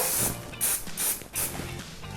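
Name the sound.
spraying leaf shine on foliage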